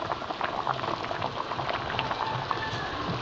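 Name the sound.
sinigang na bangus soup boiling in pot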